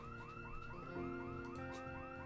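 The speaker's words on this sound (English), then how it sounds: "We can't power anything except that one alarm." A car alarm in the zombie survival game Project Zomboid blares a repeating rising electronic whoop in a steady rhythm, somewhat distant and alone, with no speech over it.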